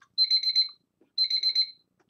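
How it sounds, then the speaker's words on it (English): A kitchen-style timer alarm goes off with two bursts of rapid high-pitched electronic beeps, each burst about half a second long, separated by a short pause. The sound is loud, clear and has no other sounds with it. "Let me shut that timer off."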